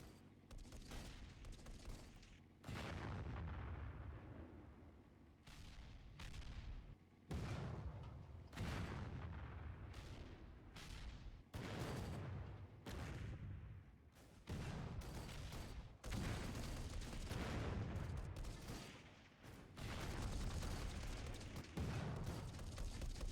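Artillery fire in the VR strategy game Final Assault: a dozen or so heavy booming bursts at irregular intervals over a low continuous rumble, loud and close, with no talk.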